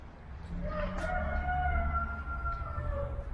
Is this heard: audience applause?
no